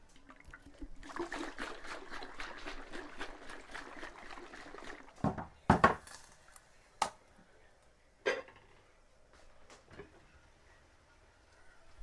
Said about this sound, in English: I'm gonna get my coconut milk in there